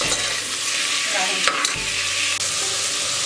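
Mixed vegetables sautéing in a pan for sambar rice, a steady close sizzle with the scrape of stirring running throughout, alone without voices.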